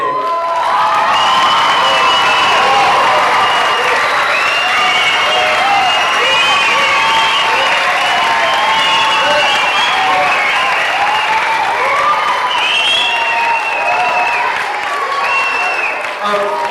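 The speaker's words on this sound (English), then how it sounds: "So I want you to give a big applause to Pepita Bustamante." Audience at a Nutcracker ballet curtain call in 2004 gives sustained loud applause, with cheers, whoops and children's shouts mixed in throughout.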